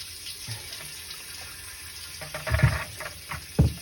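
Maple sap poured through a strainer, a quiet trickle that swells into a couple of louder splashing gushes toward the end, close by.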